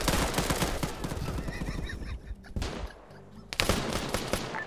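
Heavy gunfire in a military video game, dense bursts of shots and rattling automatic fire through most of the stretch, dipping briefly before another loud burst returns near the end; no voices are heard.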